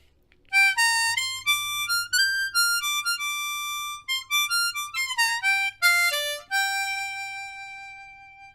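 A harmonica plays second-position blues phrases in the upper register, a string of bright, sustained reedy notes and short bends in loose bluesy rhythm, close and solo, with the final note held and fading.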